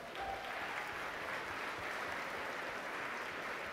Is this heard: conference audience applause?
yes